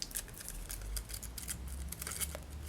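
Scissors angle-cut the small fringes along the top of a paper piece for a pumpkin treat craft. A quick run of close, crisp snips comes in an irregular rhythm, with no talk.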